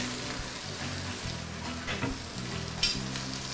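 Fish pan-frying in a hot pan, a steady close sizzle with a soft crackle and occasional brief pops, no voices over it.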